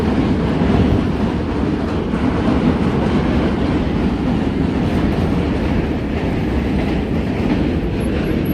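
A New York subway train rumbles loudly and steadily across the lower level of the Manhattan Bridge near DUMBO, Brooklyn, a close, continuous roar of wheels and rails.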